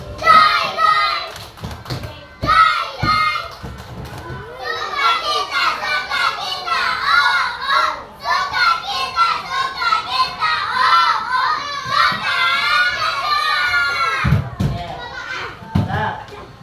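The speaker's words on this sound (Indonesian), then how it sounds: "Tepuk sukacita." Children performing the tepuk sukacita joy-clap routine in a classroom, chanting together with rhythmic claps and thumps, loud and close, with young voices dominating throughout.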